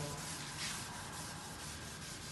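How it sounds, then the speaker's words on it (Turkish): Hand sanding of a headlight lens on an Opel Astra H, a steady continuous close-up rasping rub that runs without a break and with no voices. "Çok güzel zımparalıyor."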